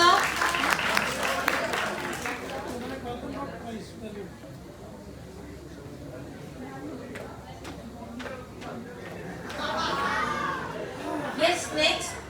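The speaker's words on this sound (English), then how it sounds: "clap for Monica." A burst of applause from a group opens the clip and fades into murmuring voices, then clapping rises again near the end.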